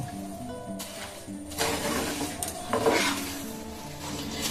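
Sugary mihidana mixture being stirred and mixed in a pot with a utensil, scraping and clinking softly in bursts, close up with no talking.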